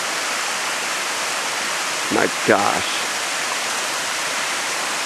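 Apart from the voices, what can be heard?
waterfall on the Kumano Kodo trail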